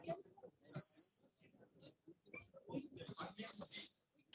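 Electronic quiz buzzers sound in a meeting hall, giving two sustained high beeps among scattered talk and room noise.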